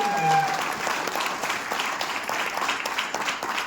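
Steady applause from an audience at a motivational business seminar, fairly close and even, with a brief voice at the very start.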